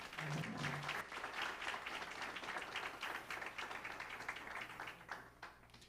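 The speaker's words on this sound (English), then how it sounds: "Let's give them another round of applause." Sustained round of applause from an audience at an Election '24 political forum, continuous clapping filling the room for the full stretch, with a brief voice at the very start.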